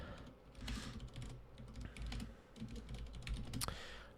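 Someone types on a computer keyboard in rapid, uneven bursts with brief pauses. The key clicks are close but quiet, and no one speaks.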